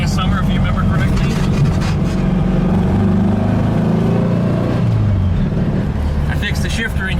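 A car engine fitted with dual Weber 34 ICT carburetors and a newly installed distributor idles steadily up close, a loud continuous rumble with a slight rise and fall in pitch partway through.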